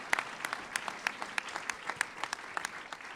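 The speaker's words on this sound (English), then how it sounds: "Give him a nice big clap, everyone." Sparse, scattered clapping from a small live audience welcoming a guest, distinct individual claps in an uneven rhythm, fairly quiet and thin rather than a full ovation.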